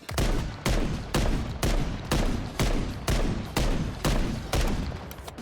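Gunfire from the Modern Warfare 3 Warzone video game, fired with rainbow tracers: loud, close full-auto bursts come in a steady rhythm of roughly two per second with sharp onsets and quick decays, and no voices.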